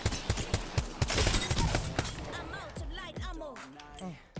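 Guns fire in Apex Legends with a weapon recoil macro, heard as rapid bursts of shots at the start and then scattered single reports, mixed with game effects and chirping tones, with a voice talking at times.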